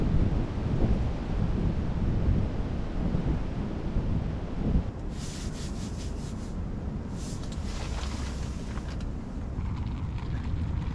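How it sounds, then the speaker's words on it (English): Wind on a snowy winter night outdoors by a tarp shelter roars and buffets the microphone in steady, loud gusts, with a few brief rustling scrapes partway through. "it is a little bit chilly out here, to be honest. Especially with that wind blowing."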